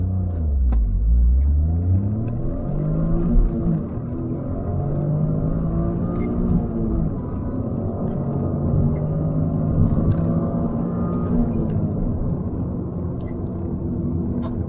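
Toyota GR Corolla launching hard from a standstill with wheelspin, its engine note climbing steadily through a sustained, loud rev, heard up close with no talk over it.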